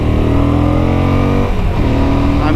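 A 2021 Suzuki V-Strom motorcycle engine pulls away from a stop, its loud close drone rising steadily in pitch, with a brief gear shift midway before revving up again.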